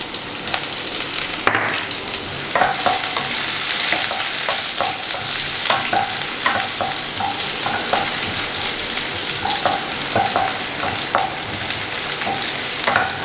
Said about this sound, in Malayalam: ഇനി ഉള്ളി ഒന്ന് ബ്രൗൺ കളർ ആവണ വരെ നമുക്ക് നന്നായിട്ട് വഴറ്റി കൊടുക്കാം.